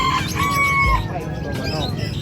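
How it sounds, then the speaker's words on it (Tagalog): Chickens at a poultry stall in a pet market in San Jose del Monte, Bulacan, give a short crow-like call and clucks, close by, over a steady bustle of market noise. "Oh, dito naman tayo sa manukan guys."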